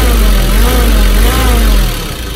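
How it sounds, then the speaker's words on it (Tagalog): A car engine that overheats when idling makes an abnormal groaning drone, loud and close, with a wavering low hum that fades slightly at the end and no talking. "Ngayon, marinig yung ungol ng makina."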